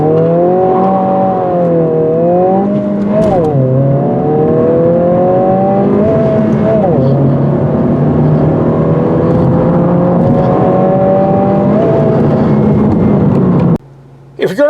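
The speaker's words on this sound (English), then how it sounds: "you really have to work this gearbox to get some decent acceleration out of this motor" A 2022 Honda Civic Si accelerating hard through its six-speed manual gearbox, engine note climbing in pitch through each gear with brief dips at the shifts, loud and close from inside the cabin, cut off abruptly near the end.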